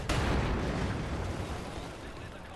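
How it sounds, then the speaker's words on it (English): A cannon shot blows up a plane in the Wolfenstein video game, a single loud, close explosion that bursts at once and then rumbles and fades slowly. "So we're going to use the cannon and blow up."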